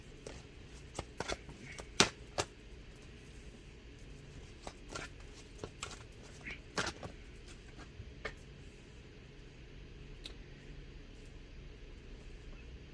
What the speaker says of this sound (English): let me get at least 3 cards out, pile number two